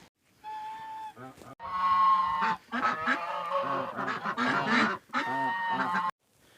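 Domestic geese and ducks on a small farmyard on a frosty winter morning call out loudly and close by, a nearly continuous stream of nasal honks and quacks over several seconds with only short pauses.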